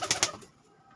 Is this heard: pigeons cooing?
yes